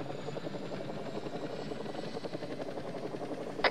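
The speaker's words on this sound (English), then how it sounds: "Helicopter probably dropping off something." The constant thudding chop of a helicopter's rotor in the video game ArmA 3 fills the clip, steady and fairly close, with no talking.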